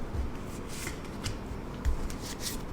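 Tarot cards being laid out and shuffled on a table, soft quick riffles and papery slaps coming in a few short bursts, close and quiet.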